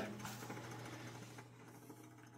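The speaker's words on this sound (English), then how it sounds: "Pump is on." A well water pump runs just after a new pressure switch is fitted, giving a faint, steady mechanical hum with an even low drone and light rattle throughout and no voices.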